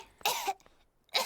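A cartoon pig from Peppa Pig coughs, two short, close coughs separated by a brief pause, with no talking.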